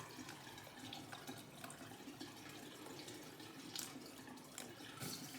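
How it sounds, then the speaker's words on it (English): Tap water runs steadily into a sink while a nasal irrigation bottle is rinsed out, a faint continuous splashing hiss with a few brighter spatters, heard alone at low level. "I usually will rinse the bottle out"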